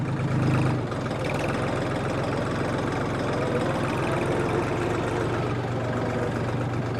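A diesel tractor engine idles steadily up close in a vegetable garden during weeding work, a constant low rumble with a rhythmic throb, slightly louder at the very start, no voices.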